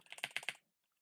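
Quick burst of computer keyboard typing, about half a dozen close, crisp keystrokes in a rapid cluster, then near silence with a couple of faint clicks.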